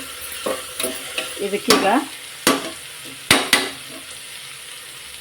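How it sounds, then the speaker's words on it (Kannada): Spices fry and are stirred in a pan for a North Karnataka dish, with sizzling under repeated close scrapes and knocks of a spoon against the pan, and a brief spoken word. "ಈಗ ಇದು ಕೂಡ ಇನ್ನೂ ಫ್ರೈ ಆಗಬೇಕು ಫುಲ್ಲು ಸ್ನೇಹಿತರೆ. ಇದೀಗ ಚೆನ್ನಾಗಿ ಫ್ರೈ ಆಗಿದೆ ನೋಡಿ."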